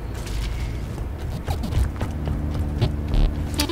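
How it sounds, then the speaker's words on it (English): Robot Jack rips open a door in Gears of War: Ultimate Edition, with metallic creaking and grinding mechanism sounds over a steady low background hum, swelling in a few heavier bursts. "Jack, decloak and rip this door."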